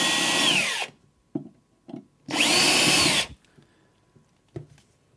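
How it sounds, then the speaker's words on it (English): A power drill whirs loudly in two bursts of a second or so each, drilling a pilot hole, with brief clicks and knocks from handling between and after them. "So just get your drill,"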